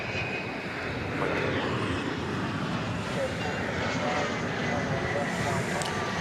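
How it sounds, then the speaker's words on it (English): A Boeing 757 airliner roars at DFW Airport, a loud, steady broadband jet rumble heard from outdoors, with a voice speaking over it. "That's one nice looking 757."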